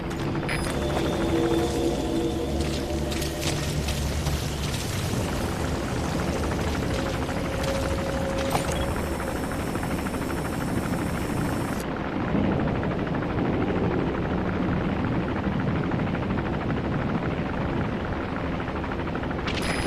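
Helicopter from the video game Metal Gear Solid V: The Phantom Pain, a steady loud rotor and engine roar that fills the whole clip alongside dense game ambience, with no talk.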